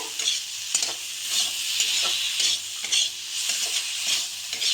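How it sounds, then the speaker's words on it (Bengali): Spice paste for a mustard fish chorchori sautéing in oil, a bright steady sizzle broken by rhythmic stirring scrapes roughly every second, close and fairly loud, with no talking. "এখন আমার আমার মশলাটা কষানো হয়ে গেছে, ভালো করে কষিয়ে নিতে হবে।"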